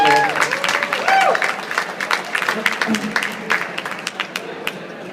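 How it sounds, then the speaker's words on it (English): A wedding crowd applauds during a best man speech, loudest at first and thinning out over a few seconds, with a voice briefly audible over the clapping. "They deserve a round of applause."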